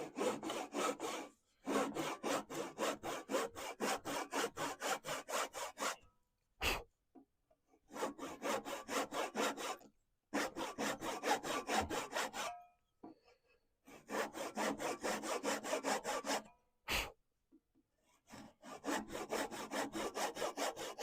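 Hand saw cutting a straight line through a wood workpiece held in a lathe during woodturning, steady rhythmic rasping strokes in several long bursts separated by short pauses, close and loud with no talk.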